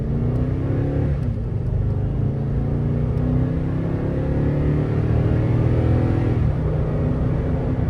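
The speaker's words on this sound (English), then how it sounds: "it's quiet too, for the most part, except when you accelerate, which I'm fine with." A 2018 Toyota Tundra SR5 V8 pickup accelerates on a test drive, a steady low engine drone and road rumble rising gently in pitch, heard from inside the cab with no talking.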